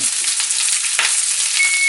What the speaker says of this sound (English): Even though you're going to hear some sizzling along the way